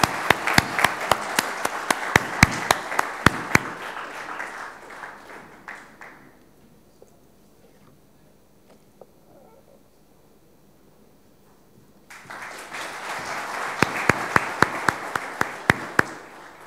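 At an employee excellence awards ceremony, an audience claps with sharp individual hand claps standing out. The applause fades away to near silence for several seconds, then swells back up again.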